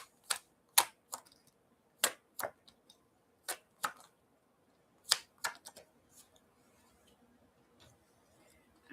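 Tarot cards are handled and shuffled close up, giving a series of sharp crisp snaps and flicks at irregular intervals with quiet gaps between, no talking.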